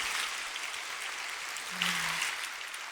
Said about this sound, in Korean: 곧바로 하나님 앞에 감사의 박수를 드릴까요?